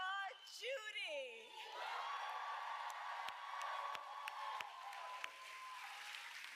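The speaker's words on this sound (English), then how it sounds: "Can we please applaud Judy?" An audience at a Kamala Harris event breaks into sustained applause and cheering, with a few loud whoops and shouts at the start before the clapping continues as a dense, steady roar.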